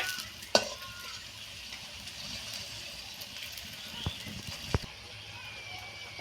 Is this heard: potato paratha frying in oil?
yes